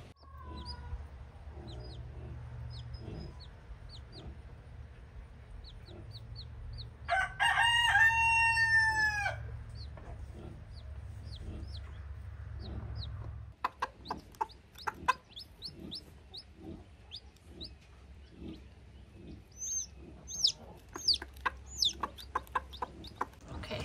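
Chickens cluck and a rooster crows in a backyard coop with newly hatched chicks, with one loud, near crow standing out among steady clucking and scattered sharp peeps from close by.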